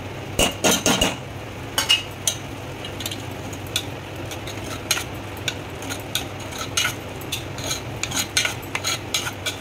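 A spoon clinks and scrapes against a metal pot in irregular bursts, stirring grated coconut into atukula paisam made with flattened rice.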